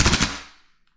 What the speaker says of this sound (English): I'm just gonna do full auto string of fire. I'm gonna hold my finger down on the trigger until the magazine is empty